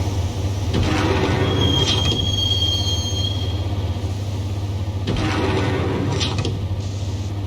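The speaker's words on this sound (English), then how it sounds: "the train doors had already shut behind me, and I was in for the ride" Train rolling through underground tunnels in the video game Max Payne: a steady low rumble throughout, with metallic wheel squeals and rattles rising near the start and again toward the end, loud and without talk.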